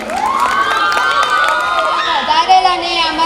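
A school annual function crowd greeting a student speaker with loud cheering and whoops from children, clapping mixed in, voices shouting over it throughout.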